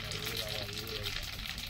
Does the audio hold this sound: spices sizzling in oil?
yes